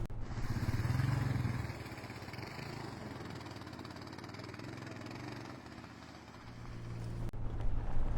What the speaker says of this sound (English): I included a short video of I think it was 2018 of Gordon crossing this creek.